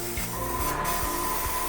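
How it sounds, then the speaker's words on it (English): An airbrush sprays water-based black body paint in a steady, close hiss, with faint soft thumps underneath and no talk. "I'm just going to keep spraying."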